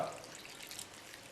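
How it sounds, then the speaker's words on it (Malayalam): Water is poured into batter, a brief soft trickling splash heard close and faint with no voices. "ഇനി ഇതിനകത്ത് ശുദ്ധമായ പച്ചവെള്ളം ചേർക്കുക"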